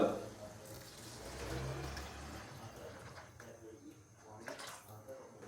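Water is poured into a pot of soaked rice for degi chicken vegetable fried rice, a soft, rushing splash that is strongest at first and then trails off into quieter trickles.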